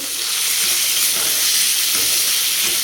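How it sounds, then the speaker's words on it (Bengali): Onions frying in a pan for biryani, a steady loud hiss and sizzle held close throughout with no pauses and no talking. "এখানে পেঁয়াজটা ভাজা হচ্ছে"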